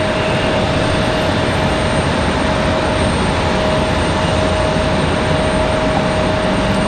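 An American Airlines jet arriving from Charlotte flies onto downwind on a stormy day, a continuous, even jet rumble holding steady and fairly loud for the whole stretch.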